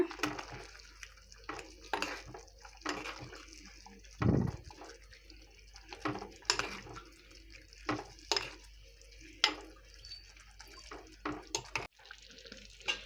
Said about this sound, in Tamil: இது கூட நம்ம பாவக்காய் வந்து ஆட் பண்ணிக்கலாம். நல்லா மிக்ஸ் பண்ணிக்கோங்க.